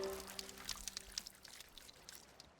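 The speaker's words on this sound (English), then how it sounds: "Just relaxing to some sounds of water" Water from the Sea of Thieves video game, a soft pouring and trickling with small scattered splashes, quiet and continuous, with no talking.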